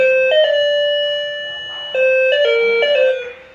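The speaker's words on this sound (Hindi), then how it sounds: "जैसे हम घंटी का स्विच ऑन करते हैं," A newly wired electric doorbell plays a clear electronic chime melody of several notes in two phrases, close and loud, then fades out.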